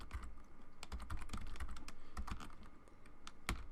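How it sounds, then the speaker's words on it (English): Steady, rapid typing on a computer keyboard, close up, with dense irregular key clicks and a few sharper louder strikes throughout, no voices. "let's go ahead and type that in now"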